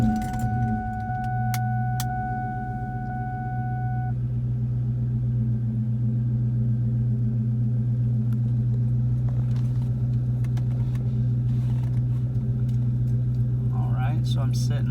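A 1999–2004 New Edge Ford Mustang with a modified IAC restrictor fitting idles after a cold start, a steady loud close low hum with a high warning chime early on and faint speech over it.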